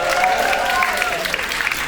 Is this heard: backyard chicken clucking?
no